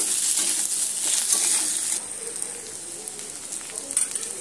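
Potatoes frying in a pan with onion, ginger and garlic, a loud dense crackle of hot oil that softens partway through into a gentler sizzle with scattered pops and stirring.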